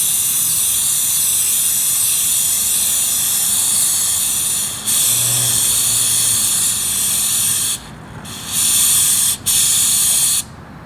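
Continuous aerosol spraying of lubricant onto a motorcycle chain hisses in long bursts, broken by a few short pauses, close and loud.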